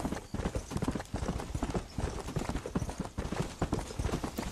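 Horse hooves gallop in Red Dead Redemption, a quick, steady clip-clop rhythm running loud and continuous throughout with no talk over it.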